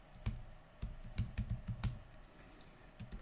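Fingers type on a computer keyboard, close up, in quick irregular bursts of clicky keystrokes separated by short pauses.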